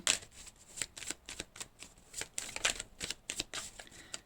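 Tarot cards shuffled and drawn by hand, a steady run of crisp riffling flicks and soft slides, close and fairly quiet, with no voices.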